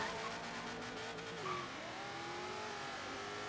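Car driving and skidding in the video game Forza Horizon 3 during an Australian cops-and-robbers chase: a continuous engine drone with a brief tire squeal partway through, fairly quiet.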